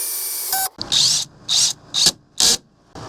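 A power driver sinks screws into the slide-out of a Freightliner XC Class A RV: after a brief click, four short, loud whirring bursts come up close, separated by near silence.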